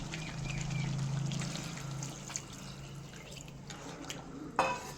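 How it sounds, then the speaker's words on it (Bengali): Water is poured into a pot of simmering spiced mutton curry, a soft steady trickle and sizzle up close, followed by faint drips and a brief clatter near the end. "এরপর আমি জল ঢেলে দিচ্ছি"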